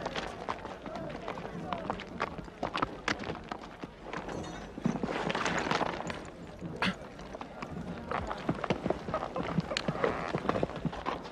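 Horse hooves clip-clop in a quick, busy run of many overlapping strikes, close and fairly loud, with voices talking over them throughout.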